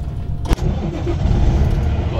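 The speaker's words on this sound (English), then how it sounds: "go ahead and turn on your vehicle." A truck engine cranks and catches with a quick starter burst, then settles into a loud, rumbling idle close by, heard during an in-cab air brake inspection.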